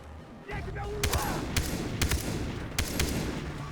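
Short bursts of automatic rifle fire in Far Cry 3 crack out four or five times at uneven intervals over a low, continuous background rumble.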